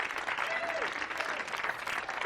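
A comedy club audience applauds during a stand-up set, a dense, steady wash of clapping that holds at full level throughout, with a faint voice briefly audible over it.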